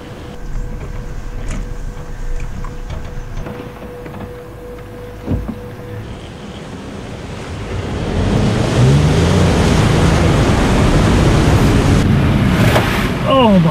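A 4WD with diff locks and traction control engaged drives through a deep, fast-flowing creek crossing on the Limestone Creek Track in Victoria's High Country. A low engine drone and wind give way to a loud, sustained rush of churning, surging water.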